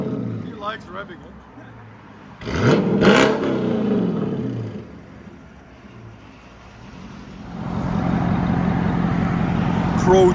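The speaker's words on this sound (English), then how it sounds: "He likes revving it." A Procharged supercharged 5.7L V8 Dodge Charger with a muffler delete revs hard in two surges, loud and close, with a roaring low rumble and people talking in between.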